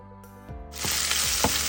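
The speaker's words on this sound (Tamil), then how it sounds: "சீரகம் கருவேப்பிலை இஞ்சி பூண்டு சேர்த்து நம்ம அதை வதக்கிடுறோம்" Cumin, curry leaves, ginger and garlic hit hot oil and break into a loud, steady sizzle after a quiet start, with a few stirring scrapes on top.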